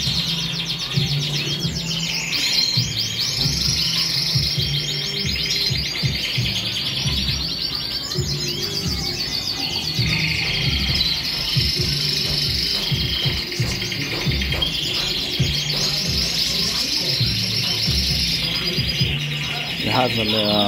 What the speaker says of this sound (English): It has a lot of birds, as you can see. Good quality, has birds, really healthy birds.